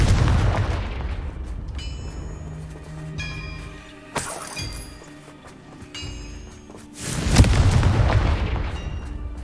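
Confringo blasting spells in a Harry Potter video game, a few booming explosions with crackling debris, the loudest burst near the end, loud and close over a low rumbling game background.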